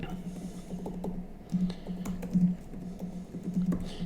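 Typing on an Apple Magic Keyboard for an 11-inch iPad Pro, a run of soft, quick key clicks in uneven bursts, close by, with a low hum and a voice speaking over it.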